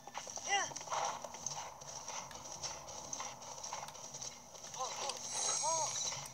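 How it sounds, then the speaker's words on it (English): A horse in Zelda Breath of the Wild clip-clops at a gallop with rhythmic hoofbeats and a couple of neighs and whinnies, at moderate loudness amid game ambience and some talk. "This is my horse now."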